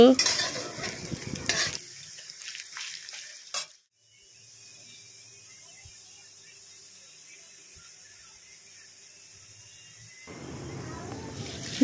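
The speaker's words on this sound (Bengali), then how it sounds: "পেঁয়াজগুলো লাল করে ভেজে নিই" Sliced onions fry in hot oil in a pan after fish, a dense, steady sizzle at the start that drops away to near silence, then returns loudly near the end.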